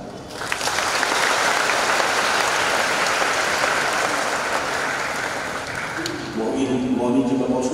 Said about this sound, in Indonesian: Kor yang luar biasa, tidak salah kalau kita tepuk tangan.